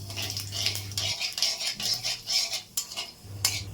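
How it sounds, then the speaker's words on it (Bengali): Radhuni seeds hit hot fish-frying oil for tempering, a bright, close hiss and sizzle broken by quick scrapes and clinks of a spatula in the pan. "মাছ ভাজা তেলের মধ্যে রাঁধুনি দিয়ে ফোড়ন দেব।"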